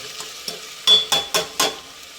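Tomatoes and salt fry together in a pan, stirred in four loud, close scraping strokes in quick succession over a faint background sizzle.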